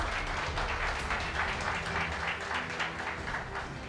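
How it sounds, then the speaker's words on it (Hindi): Loud, dense applause from a large audience at a mentoring seminar, steady and continuous throughout with no voice over it. "अपने जगह पे खड़े रहिए और जोरदार तालियां बजाइए।"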